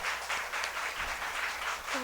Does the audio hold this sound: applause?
yes